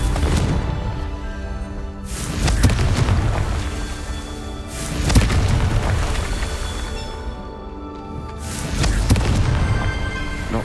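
Confringo explosion spells blasting in the video game Hogwarts Legacy, several loud booming bursts a few seconds apart, each swelling and rumbling before fading under a busy game soundscape.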